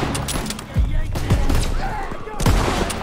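Gunfire in the World War II shooter game Call of Duty: WWII, a few loud sharp shots with booming echoes over dense game noise and overlapping voices.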